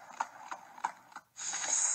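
A trotting horse's hooves clip-clop in a quick, even rhythm, four close, crisp strikes, followed by a brief hissing rush of noise as the hoofbeats stop.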